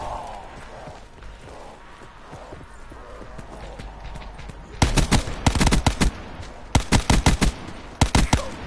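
Gunfire in Call of Duty Blackout, sharp rapid bursts of shots in several clusters, loud and close, following a stretch of quieter game ambience and movement.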